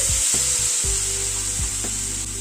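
Tomato frying in a pan, a steady loud sizzle with several scraping stirs of a spatula at irregular intervals, no talking.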